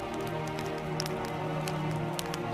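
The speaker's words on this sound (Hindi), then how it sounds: "हल्की हल्की बारिश शुरू हो चुकी थी।" Light rain falls in a steady, even patter across the surface, soft and unbroken with no voices.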